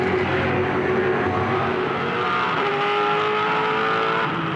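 A pack of 2007 V8 Supercars race cars runs through the opening lap at Phillip Island. A loud, continuous engine roar holds with layered whining tones and no voices.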